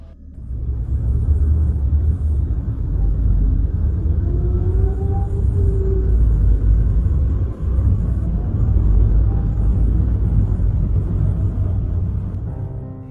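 A car rolls slowly along a street at night, its engine a low, steady rumble close by for the whole stretch.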